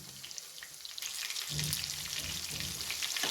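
Fish fries in oil with a soft, fine sizzle that swells louder about halfway through, crackling steadily up close with no talking.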